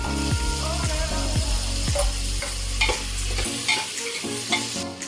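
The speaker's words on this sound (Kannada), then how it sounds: "ಸ್ವಲ್ಪ ಹಸಿ ಸ್ಮೆಲ್ ಹೋಗೋ ತನಕ ಒಂದು 2 ಸೆಕೆಂಡ್ಸ್ ಹಿಂಗೆ ಫ್ರೈ ಮಾಡ್ಕೋಬೇಕು." Beans and potatoes fry with ginger garlic paste in a pan for mixed sprouts sambar, loud sizzling under rhythmic scraping strokes of a stirring spoon against the pan, with no talk.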